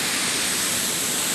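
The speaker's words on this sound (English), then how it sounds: "Might as well get one more shot of the damn waterfall." Waterfall rushing on a steamy morning, a steady broadband roar with no breaks, heard alone and moderately loud for its brief length.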